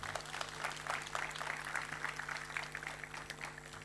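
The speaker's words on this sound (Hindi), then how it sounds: "हमारे ताली बजाओ तो जोर से बजाओ।" Applause from an audience at a National Youth Day 2023 gathering, a steady wash of many hands clapping at moderate, even loudness throughout, with a faint hum underneath.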